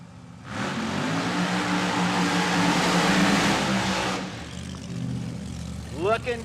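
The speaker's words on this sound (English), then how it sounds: "He's got that 451 Hemi-powered 66 Nova fired up, ready to go down that right side lane." A 451 Hemi-powered 1966 Chevy Nova drag car roars loudly at close range on a drag strip, a sustained heavy engine blast that drops away after a few seconds, followed by quieter crowd and background noise with a brief squeal near the end.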